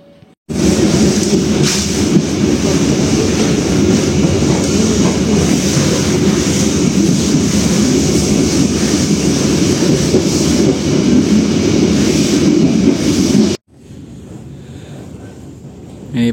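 A loud, steady rumble and rattle of the Siliwangi train rolling past below 5 km/h close by, between Sukabumi and Bandung, then cutting off abruptly to quieter background.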